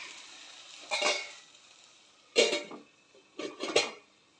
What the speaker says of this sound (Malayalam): കറിവേപ്പില നമുക്കിങ്ങനെ വിതറി കൊടുത്ത് മൂടി വയ്ക്കാം